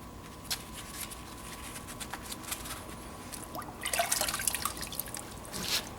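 Wet sanding a car headlight lens with sandpaper and soapy water, giving soft wet scratching and dripping sounds that grow busier and louder near the end, close up with no talk.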